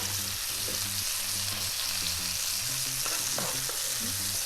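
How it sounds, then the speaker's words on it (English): A pork chop frying in a pan while being basted with melted butter, a loud, constant sizzle with scraping and spooning sounds layered over it, no voices. "into the pan, and I'm just going to baste my pork chop with this beautiful butter"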